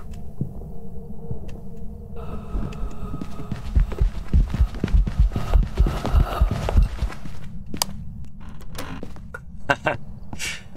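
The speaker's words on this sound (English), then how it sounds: "You can hear its slow-ass footsteps." A slow creature in a video game plods closer, its heavy footsteps landing as loud, rhythmic low thuds that build over the middle seconds, then give way to sparse clicks and ambient game sound.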